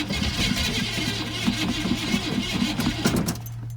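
A Squarebody Chevy engine cranks steadily as it tries to start, the starter's rhythmic chugging pulses repeating for about three seconds before stopping, close and loud.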